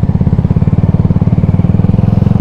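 A CF Moto 300SR motorcycle engine runs close and loud after maintenance, with a steady, rapid, even pulsing throb and no talk.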